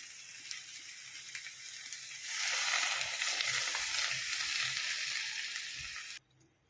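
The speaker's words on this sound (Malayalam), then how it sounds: "ഇതിൽ നമ്മൾ കുറച്ച് ചൂടുവെള്ളം ഒഴിച്ച് കൊടുക്കും" Hot water hitting a pan of spicy eggplant and potato curry, a soft sizzle that surges into a louder rushing hiss for several seconds, then cuts off abruptly.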